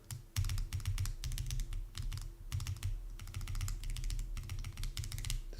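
Keys with freshly assembled stabilizers on a mechanical keyboard being pressed during a build, giving a steady run of close, crisp clacks and thocks, one after another, with a low hum underneath and no talking.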